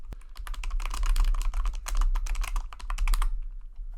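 Rapid, steady computer keyboard typing with dense clicky keystrokes close to the mic, running for several seconds before stopping near the end, with no voices.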